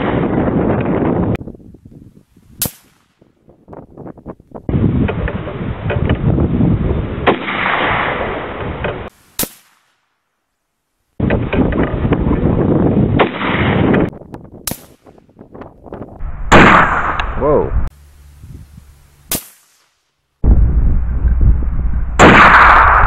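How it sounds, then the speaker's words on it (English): Rifle shots from an Axis 25-06 and an SKS 7.62x39 during outdoor target shooting in Saskatchewan: several loud, sharp cracks spaced seconds apart, with wind buffeting the microphone between them and no talking. "let's get to doing some shooting and having some fun."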